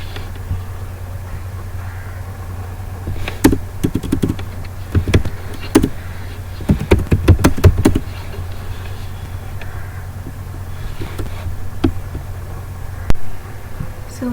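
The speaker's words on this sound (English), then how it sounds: "so now let us type this command" Typing on a computer keyboard: scattered clicking taps in short irregular bursts over a constant low hum, close and fairly crisp, with quiet gaps between bursts.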